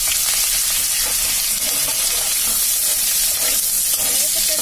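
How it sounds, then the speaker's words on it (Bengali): Onions and curry leaves fry in hot oil with dry chillies and cumin, a loud, steady, close sizzle that runs unbroken throughout, with no talk. "এর মধ্যে দিলাম এবার আমি পেঁয়াজ আর কারিয়া পাত্তা দিয়ে ভালো করে এটাকে নাড়াচাড়া করে লাল লাল করে ভাজবো।"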